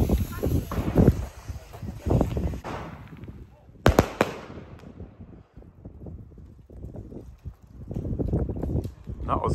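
A New Year's Eve fireworks battery of 13 shots fires off in rapid succession, loud bangs and crackle under wind noise, with people talking over and after the volley.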